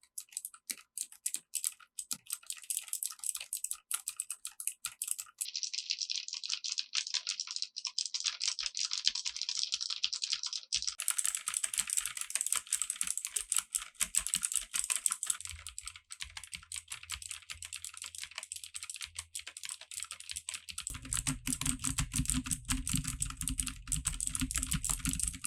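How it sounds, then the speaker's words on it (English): Keyboard typing used as a microphone test, a steady stream of close, busy key clatter running the whole time, shifting in tone partway through and joined by a low hum near the end; no one speaks. "people are going to be typing while you're obviously recording"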